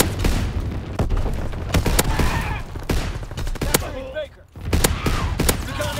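Breacher shotgun blasts in the video game Call of Duty Vanguard, a series of loud, sharp shots fired in quick succession over busy multiplayer battle noise, with a brief lull near the end.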